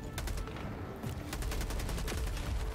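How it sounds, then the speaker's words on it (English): A machine gun fires in the Helldivers 2 game, a loud, rapid burst of shots with a steady rhythm over a dense rumble of battle noise. "Machine gun!"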